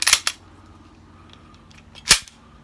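Two sharp cracks from a Tisaş Zigana Sport replica pistol fired with its magazine in, one at the start with a quick echo and another about two seconds later, loud against near silence.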